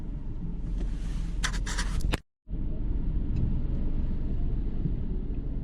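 A Renault Clio creeps through standstill traffic near a narrow bridge, its low engine and road rumble droning steadily. A few light clicks sound inside the car, and the sound cuts out briefly midway.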